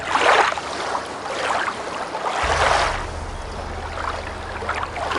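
Water in the video game Gothic 2: Night of the Raven laps and splashes in repeated surges like waves washing against a boat, with a low steady hum joining partway through.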